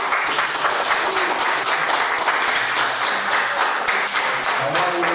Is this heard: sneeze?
no